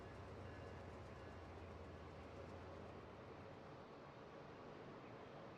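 A train in the Rail Sim Universe game rolls past steadily with a continuous rumble and faint rhythmic clatter of wheels, moderately distant, no voices.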